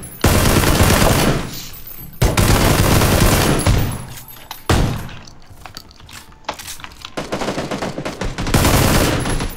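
Gunfire in PUBG: rapid automatic bursts crack loudly in several dense volleys, separated by brief lulls, with a sustained stretch of shots toward the end.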